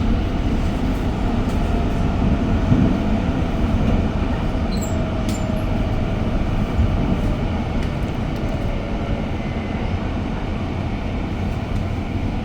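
An REM light metro train in Montreal runs between McGill and Côte-de-Liesse stations, a loud, steady interior rumble of wheels and motors with faint squeals, heard from on board without speech.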